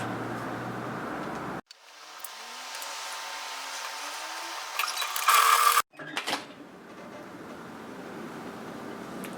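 A sewing machine hems the sleeves of a wrap-front bodysuit, running in a steady, fairly quiet burst of several seconds with a brief louder rattle near its end, then stopping.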